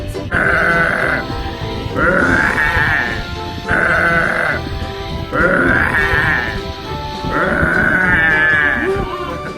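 A toy dinosaur gives out repeated loud electronic roars or bleats in about five bursts, each lasting roughly a second and coming in a steady rhythm.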